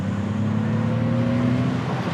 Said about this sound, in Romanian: Și sunetul de propulsie se aude bine